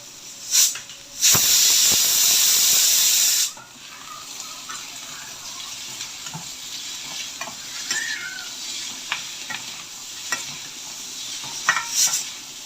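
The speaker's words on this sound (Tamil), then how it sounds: "இப்போ வந்து வேக வச்சுருக்கிற வாழைக்காவே சேர்த்து நல்லா வந்து மிக்ஸ் பண்ணிக்கலாம்." Boiled green plantain is stirred into sautéed onions in a pan, a burst of loud sizzling hiss followed by quieter scraping and clinking of a spoon against the pan.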